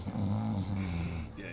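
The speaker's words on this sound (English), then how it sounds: "Yeah, he's snoring." A character in the video game Alan Wake snores in low, rumbling drawn-out breaths, close and steady, for about a second and a half.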